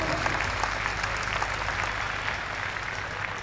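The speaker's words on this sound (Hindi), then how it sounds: "गाइस तालियां नहीं रुकनी चाहिए," An outdoor audience at a school alumni meet claps continuously, a steady patter of many hands at moderate distance, without speech.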